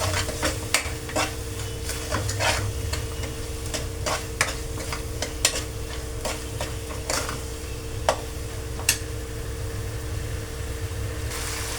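Vegetables with soy sauce, tomato ketchup and spring onion leaves are stir-fried in a pan: a steady low sizzle under repeated sharp scrapes and clicks of the stirring utensil, close and moderately loud.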